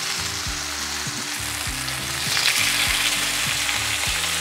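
Meat sears in a pot with a loud, dense sizzle that swells slightly midway, a constant close crackle with no speech.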